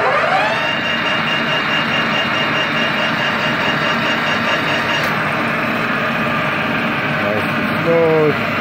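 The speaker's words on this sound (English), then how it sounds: "Right now you can hear the motor running." A Clausing Colchester 13 x 40 inch metal lathe with a single-speed motor runs at 1860 RPM, giving a loud, steady whine with a mechanical hum that holds evenly from start to finish, with a short higher squeal near the end.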